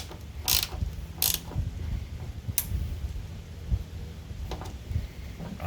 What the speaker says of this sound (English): Put the bolt back through the top in the same threaded holes and tighten it up.